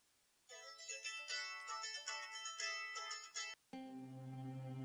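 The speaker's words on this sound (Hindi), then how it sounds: "आपका फोन है। उठा लो जरा" A phone rings in a home in a Pakistani TV drama, a bright electronic ringtone melody of repeated tones that plays for about three seconds, then a brief gap and a lower sustained tone, with no voices.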